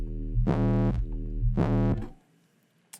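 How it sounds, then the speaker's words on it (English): A synthesizer bass sine wave drones steadily while a filter sweep opens twice, each pass adding a bright, buzzy burst before fading, then the tone cuts off and a short click ends it. "There's not a lot of energy other than the low end of a sine wave."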